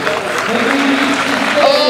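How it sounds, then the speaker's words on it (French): Crowd at an athletics meeting in Carquefou applauding the 1500 metres winner, loud continuous clapping with crowd noise and voices mixed in throughout. "je vais vous demander de bien vouloir applaudir très très fort"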